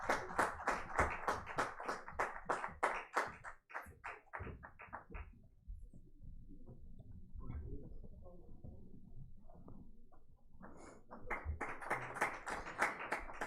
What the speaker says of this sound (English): Can we have the round of applause, please?